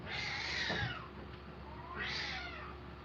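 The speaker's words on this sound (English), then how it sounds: "The cats are fighting to go who's going to go into the basement." Cats fighting over who gets into the basement, giving two long, drawn-out yowls about a second each with a short pause between them, close and fairly loud, with no talking.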